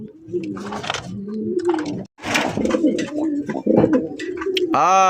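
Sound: Rajgolla pigeons cooing

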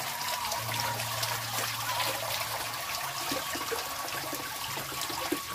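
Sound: mountain spring water flowing from a spout

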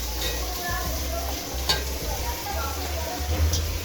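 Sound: chicken added to hot pan with green chillies, sizzling

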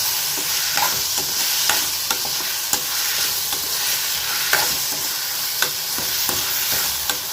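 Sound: tomatoes with salt sautéing in pan

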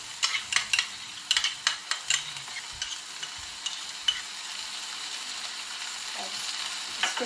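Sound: tomato puree and ketchup added to a frying pan, sizzling

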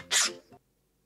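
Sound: sneeze

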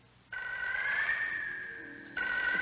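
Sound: telephone ringing

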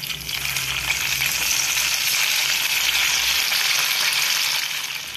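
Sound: ragi idli pieces deep frying in oil

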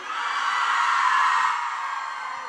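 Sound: crowd screaming

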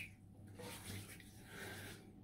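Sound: water running while wetting a shaving brush

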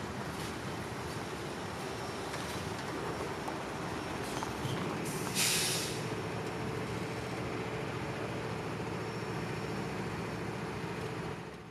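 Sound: CSX southbound freight train passing

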